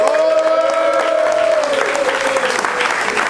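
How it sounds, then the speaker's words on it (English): Men at a retreat gathering clap together in a dense, loud burst of applause, with a sustained tone and faint voices mixed beneath the steady clapping. "Israel, can I get you to clap?"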